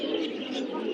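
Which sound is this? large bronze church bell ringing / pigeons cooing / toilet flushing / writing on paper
pigeons cooing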